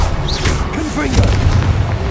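In Hogwarts Legacy, the Confringo fire spell explodes with loud, rumbling booms and swooping magical whooshes in a dense, continuous burst of game effects.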